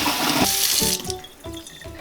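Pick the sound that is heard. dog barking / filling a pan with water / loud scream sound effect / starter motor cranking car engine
filling a pan with water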